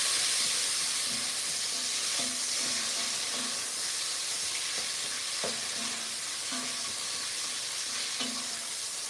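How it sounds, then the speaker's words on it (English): Food frying in a pot at home gets stirred, a steady loud sizzle with a rhythmic scraping of the utensil against the pot every half second or so, while a kitchen fan hums along underneath. "Give them a good stir up."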